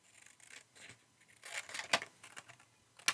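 Scissors snip triangles off a paper card in a quiet room, with a series of short crisp cuts and rustles of paper, ending in a couple of sharper snips.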